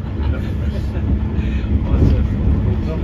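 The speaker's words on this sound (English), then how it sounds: "We're on the first train." Steady low rumble of a train running on rails, heard from on board a passenger service, continuous and fairly loud, with faint voices mixed in.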